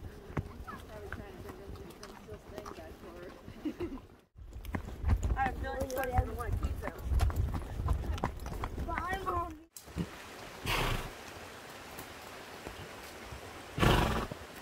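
Horse hooves clop along a rocky wilderness trail in the Weminuche Wilderness on a day ride, a steady near walking rhythm beneath frequent talk, with brief gaps in the footfalls.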